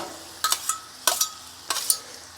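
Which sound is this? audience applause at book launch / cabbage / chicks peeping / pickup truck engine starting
cabbage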